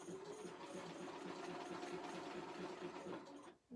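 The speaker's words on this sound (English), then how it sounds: "And you just do your zigzag stitch." A sewing machine runs a steady zigzag stitch over strips of fabric, a close, continuous mechanical whir with a fast needle rhythm that stops abruptly just before the end.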